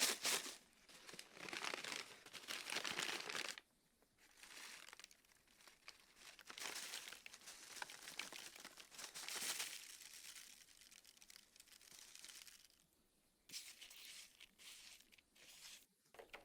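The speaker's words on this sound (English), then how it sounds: "You can shake the pods in a paper bag to dislodge them." Dry lettuce seed pods shaken in a paper bag, giving long bursts of papery crinkling and rustling separated by short pauses, close and fairly loud with no talk.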